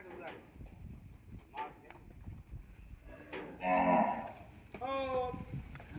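Bullocks in a village herd give two loud moos near the end, following a stretch of quieter background noise and faint voices.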